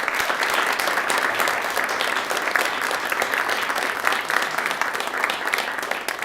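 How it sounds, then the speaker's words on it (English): Sustained audience applause for poetry recitation contestants, a dense wash of clapping from a large crowd that holds steady throughout. "Let's all give them a round of applause, please."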